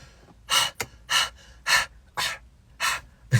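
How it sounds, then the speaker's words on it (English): A dog panting heavily after spring pole exercise, close up, in a steady series of about six sharp breathy bursts roughly every half second, with no talking. "the secret to your dog behaving is making sure your dog is breathing like this"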